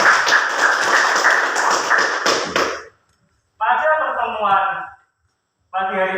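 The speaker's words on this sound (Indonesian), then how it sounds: "Tepuk tangan buat kalian semua." Students in a ninth-grade classroom clap together in a brief, loud burst that ends abruptly, followed by a person speaking in two short stretches.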